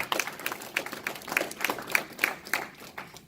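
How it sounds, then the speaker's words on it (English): Applause at a military retirement ceremony: a thin, rhythmic run of individual claps, fairly faint, with a few hands keeping a steady beat for several seconds. "Another round of applause for"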